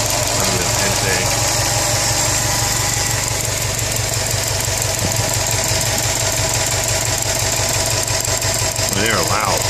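Upgraded injectors on a 2013 Subaru STI engine with Aeromotive fuel rails tick in a fast, even rhythm over a loud, steady idle, recorded close to the engine bay.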